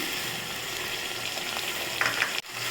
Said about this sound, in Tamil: கருவேப்பிலை சேர்த்துக்கலாம் சேர்த்து வதக்கிக்கோங்க